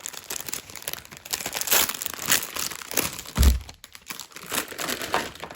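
Skeins of embroidery floss are pulled apart and undone close by, giving a run of crinkling, papery rustles and soft snaps that come in irregular bursts.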